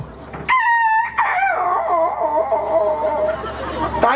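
A man on a comedy stage imitates dogs with his voice, giving sharp yelps followed by a long, wavering howl that rises and falls, loud and close with no other sounds.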